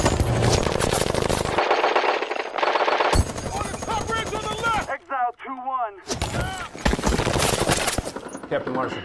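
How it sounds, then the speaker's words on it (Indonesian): Rapid, loud bursts of automatic gunfire rattle continuously, with a brief pause where shouting voices are heard before the shooting resumes. "tiba-tiba tembakan misterius langsung menghujani para tentara Amerika"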